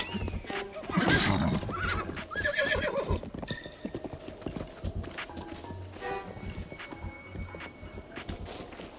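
A horse's hooves clip-clop steadily nearby, with a loud whinny early on and continued hoofbeats afterward.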